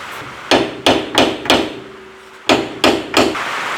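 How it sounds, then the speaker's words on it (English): Sharp hammer strikes ring out in two clusters, three blows then a pause, then three more, each a loud metallic-wooden crack with short decay. "Let me get my hammer."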